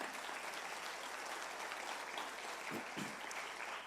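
A church congregation applauding for Jesus after a sermon, a steady, faint wash of many hands clapping at a distance, with no voices standing out.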